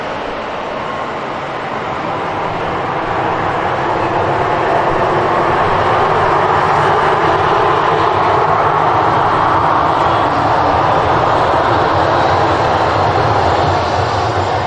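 A SunExpress airliner taxis out at Manchester Airport, a loud, steady jet engine roar that swells slightly over the first few seconds and then holds constant, with no talk.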